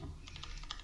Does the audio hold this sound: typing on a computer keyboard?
yes